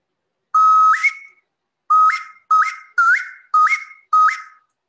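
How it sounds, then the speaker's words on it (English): Six sharp whistle blasts at an indoor reading event, each a short loud shrill note with a quick upward warble, in uneven bursts about half a second to a second apart. "a lot of whistles."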